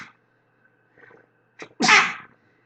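One person sneezes during an indoor optics lesson, with a couple of short catching breaths before a single loud, explosive sneeze that fades quickly into silence.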